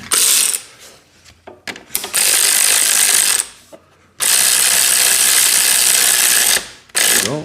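A hand ratchet tightens the clamp on a Leo Vince X3 muffler fitted to a Kawasaki KLR 650, giving several rapid, loud clicking bursts up close, separated by short pauses.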